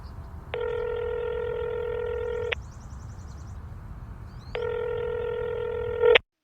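A telephone handset dials out to place a call: two long, steady tones, each about two seconds, are separated by a quiet gap with faint beeps, and a short click ends it. No one speaks.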